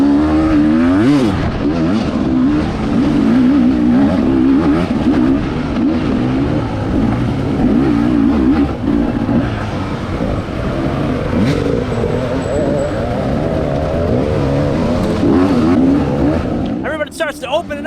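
Off-road race vehicles roar and accelerate up a rocky, rumbly uphill road during a Tough Like RORR race, the engine drone loud and continuous from close by, with a voice talking over it throughout.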